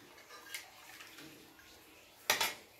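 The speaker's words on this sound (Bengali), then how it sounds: "এবারে দিয়ে দিচ্ছি এখানে পরিমাণ মতো জল" Water is poured into a pan of fish curry (mouri katla): faint splashing and a short, louder pour burst near the end, with light clinks against cookware.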